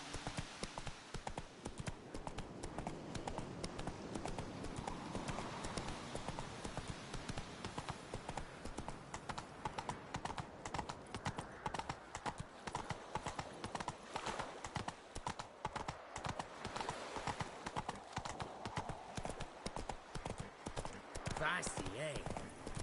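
Horse hooves galloping in a steady clip-clop rhythm throughout The Witcher video game, continuous and fairly close, with brief spoken lines from a character over the hoofbeats.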